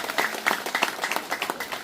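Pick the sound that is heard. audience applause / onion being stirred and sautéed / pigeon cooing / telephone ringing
audience applause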